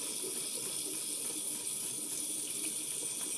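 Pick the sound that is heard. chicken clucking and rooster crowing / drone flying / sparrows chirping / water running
water running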